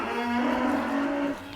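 A Simmental cow on a farm gives a single sustained, loud moo lasting over a second, close to the listener, with faint farm background behind it.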